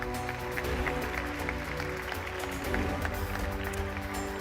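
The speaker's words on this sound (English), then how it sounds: "Let's give him a round of applause" An indoor audience at a university science week morning session claps to welcome a behavioral science professor, a steady, even wash of applause lasting throughout over a faint hum.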